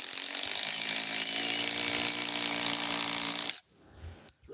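A drill runs at high speed for about three and a half seconds, a steady loud whining buzz with a gritty mechanical edge, then cuts off abruptly into near silence with a couple of faint knocks.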